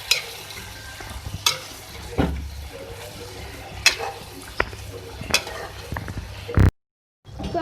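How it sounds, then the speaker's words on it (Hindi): Marinated beef keema being stirred and cooked with mashed tomato in a pan, with scraping spoon strokes and a steady low sizzle at close range, and no voices. "तो अब मैं इसमें जो है कीमा ऐड करूँगी, जो मैंने मैरिनेट करके रख दिया था 1 घंटे के लिए।"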